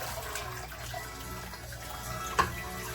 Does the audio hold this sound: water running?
yes